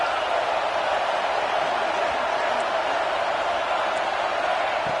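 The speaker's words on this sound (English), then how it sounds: "3rd down, and the crowd really getting into it." Stadium crowd roaring steadily on third down in a college football video game (LSU versus Clemson), a dense continuous wash of cheering that stays loud throughout with no break.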